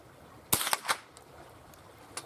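A single sharp crack from a Winchester 333 .22 rifle, close and brief, followed by a couple of quick mechanical clicks and then quiet.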